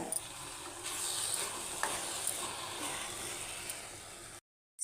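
Carrot halwa with finely ground cardamom being stirred in a pan: steady, close scraping and shuffling with a soft sizzle underneath, running continuously before stopping abruptly into silence.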